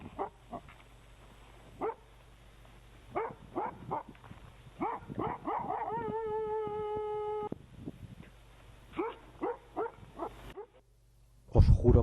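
Wolves barking in a recording, with short gruff barks and yips arriving in irregular bursts, some overlapping, plus a brief steady tone partway through and a loud thump at the end.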